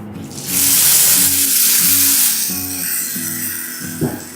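Milk poured into a hot pan of frying bread pieces for bread halwa sets off a loud, steady sizzle that swells, then slowly settles, with a soft stir or clatter near the end.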